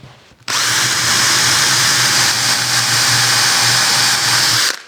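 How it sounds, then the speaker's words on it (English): A power drill whirs loudly and steadily for several seconds as it bores a dowel hole into wood for a 6mm dowel, starting abruptly and stopping at the end. "So just drill the hole."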